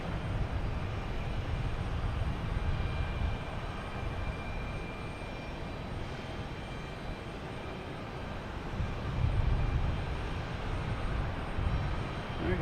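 A steady, loud roar of airplane engines at Boston Logan Airport spreads across the whole stretch, swelling slightly toward the end, with no voices.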